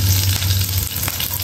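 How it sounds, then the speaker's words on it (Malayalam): Mustard seeds, onion and curry leaves tempering in hot cooking oil for an Onam sadhya dish, a loud close continuous sizzle and crackle with a few brief pops. "കടുക് പൊട്ടി വരുന്നതിന് കുറച്ച് ഉള്ളിവേണ്ടി കൊടുക്കാം"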